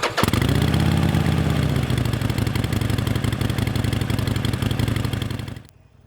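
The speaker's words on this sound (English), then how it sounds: "the 48 has a 1200cc version of the Evolution V Twin, and while you could add louder pipes if you wanted to, even the standard ones bring a great soundtrack" Harley-Davidson Forty-Eight with a 1200cc Evolution V-twin on stock exhaust starts up with a sharp catch, then settles into a loud, close, lumpy idle rumble before cutting off abruptly near the end.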